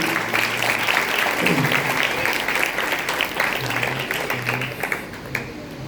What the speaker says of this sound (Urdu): آئیے زوردار تالیاں بجائیے خدا کے لیے۔